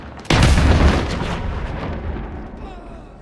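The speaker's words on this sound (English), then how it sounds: "Allied precision airstrike in" Explosions from a precision airstrike in the Call of Duty Modern Warfare video game: a sudden heavy boom hits hard, then rumbles and decays into a long fading roar with faint debris crackle.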